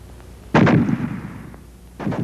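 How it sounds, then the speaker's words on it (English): A fragmentation grenade explosion among infantry: one loud, sharp blast with a rumbling decay, followed moments later by the onset of a second burst, close and powerful, with no voices. "The fragmentation grenade."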